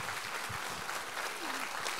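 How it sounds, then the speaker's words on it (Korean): A congregation at a Sunday church service applauds in a steady, even wash of clapping that fills the whole moment at moderate distance. "우리 하나님께 감사와 영광의 박수 올려드리겠습니다"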